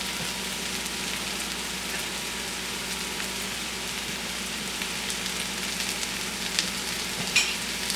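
Onions frying in a pan for koshary, a steady broadband sizzle and crackle running evenly throughout with a few sharper pops near the end, close and moderately loud with no voices.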